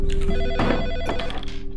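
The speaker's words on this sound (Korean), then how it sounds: "그의 은신처로 이상한 전화 한 통이 걸려옵니다" A telephone rings insistently with a bright, steady electronic tone over a dense, dramatic background of music and movement.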